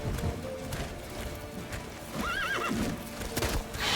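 Geralt's horse Roach in The Witcher 3 neighs loudly amid steady clip-clop of hooves, a wavering whinny rising over the hoofbeats midway, with game sounds around it.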